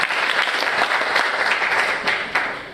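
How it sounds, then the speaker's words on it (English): Audience applause at the launch of the Kenya County Budget Transparency Survey, a steady dense wash of clapping that holds loud for nearly three seconds before easing slightly at the end. "So you can clap for us."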